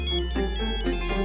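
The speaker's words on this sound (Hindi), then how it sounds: "तेरे गुनहगार का फोन आ गया है" A phone rings with an incoming call: a bright, melodic electronic ringtone plays its repeating tonal phrase clearly and close by, with no talking over it.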